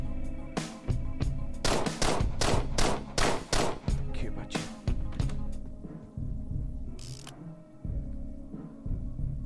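Rapid gunfire in the video game Deadbolt, with bursts of sharp, loud shots in quick succession early on, then a few sparser shots and a hissing burst, all fairly close.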